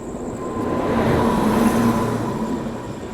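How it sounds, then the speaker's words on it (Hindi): Ahmedabad–Patna Express train passing by on the rails, a steady low rumble with a faint tonal hum, swelling slightly in the middle and easing off toward the end. "नहीं, ये तो अहमदाबाद पटना एक्सप्रेस है"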